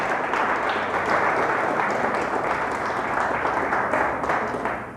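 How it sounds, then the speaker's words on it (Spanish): A church congregation bursts into loud, dense applause during a Spanish-language sermon, a continuous wash of many hands clapping together that holds steady, then eases off slightly near the end. "Dale fuerte el aplauso al Señor."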